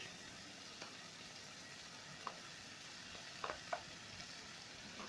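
Liver and gizzards frying with onion and pepper in a pan, a steady soft sizzle with a few sharp clicks of a utensil stirring through, fairly faint and without talk.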